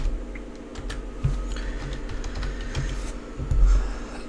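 Keys being typed on a computer keyboard for data entry, a run of soft, close clicks at an uneven pace with a few louder thumps, no voices.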